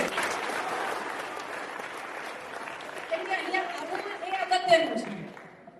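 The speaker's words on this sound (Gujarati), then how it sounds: "તાળીઓથી વધાવીએ." A school audience at a play in Gandhinagar claps together in a dense burst that tapers off over a few seconds, after which people begin talking.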